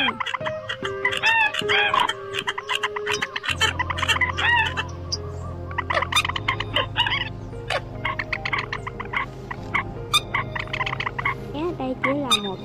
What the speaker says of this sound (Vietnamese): Đây chỉ là một đoạn ngắn trong tiếng chim chuẩn đầy đủ và cập nhật mới nhất để đi bẫy